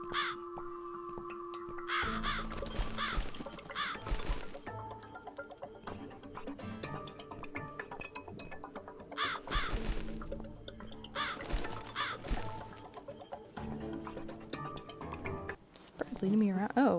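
In The Cat Lady video game, a crow caws again and again in harsh repeated calls over a droning game soundtrack, while a person talks over it throughout.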